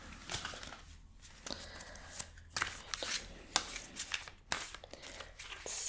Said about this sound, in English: I'm gonna shuffle these a little bit.